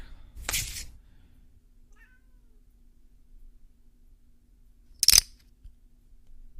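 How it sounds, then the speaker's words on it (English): A cat called Poker Cat meows twice during a poker game broadcast, two short, fairly close cries about four seconds apart, with near silence between them and no talking. "Poker Cat getting anxious, in case you can hear that in the background."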